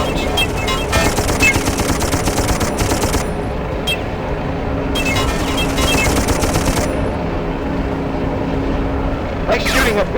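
Rapid automatic gunfire from the Darkest of Days war video game, dense bursts and sustained rattling volleys under engine rumble, with voices calling out between shots.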